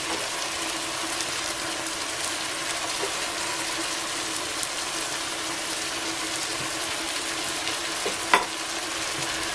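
Beef goes into a hot pan and fries with a continuous close sizzle while being stirred, a single sharp clink of a utensil standing out near the end.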